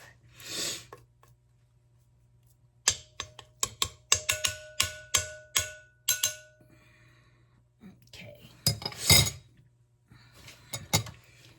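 A spoon or spatula scrapes a butter and flour mixture off a mixing bowl for low-carb chocolate chip cookie dough, producing a quick run of quiet taps and clinks against the bowl, with a brief murmur of voice at the start.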